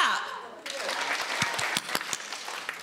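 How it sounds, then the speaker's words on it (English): An audience applauding together, a dense burst of clapping that follows a speaking voice and carries on steadily, with a few individual claps standing out near the listener. "Let's clap."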